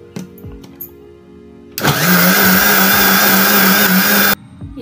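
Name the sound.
mixer grinder grinding masala finely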